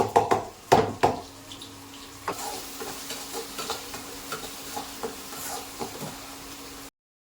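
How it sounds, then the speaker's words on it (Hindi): A few sharp clanks of a utensil against a pan, then a steady low sizzle of onions frying in hot oil for Punjabi kadhi tadka, with occasional light stirring taps. "अब लगा लेती हूँ मैं प्याज का कढ़ी में"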